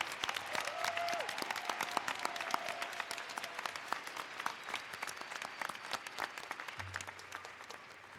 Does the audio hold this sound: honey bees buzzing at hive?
no